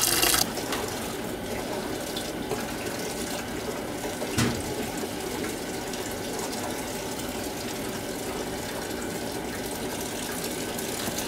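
Water pours steadily into a container and gushes for about eleven seconds, with a brief splash partway through as a hand stirs it. There is no talking.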